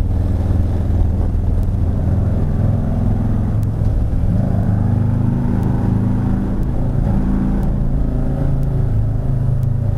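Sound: Harley-Davidson Street Glide motorcycle engine revving

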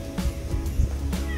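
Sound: cat meowing, a farm cat

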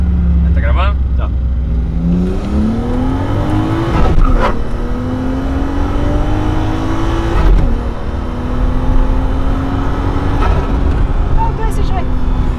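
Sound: Nissan Skyline with DSG accelerating from first gear

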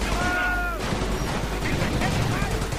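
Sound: gunfire in the Company of Heroes video game

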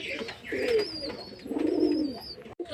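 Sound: pet pigeons cooing

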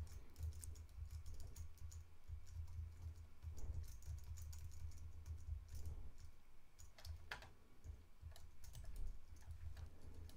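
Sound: computer keyboard key presses

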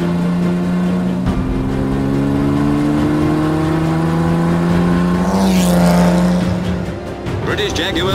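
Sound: Jaguar D-Type race cars racing at Le Mans

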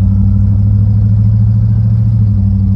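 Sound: C3500 truck engine running after two years dead

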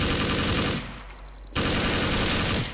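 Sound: gunfire in a video game

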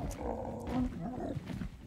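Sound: tiger roaring in video game ARK: Survival Ascended

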